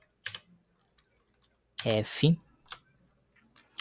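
Several quick keyboard clicks in short bursts, close by, with a brief voice in between.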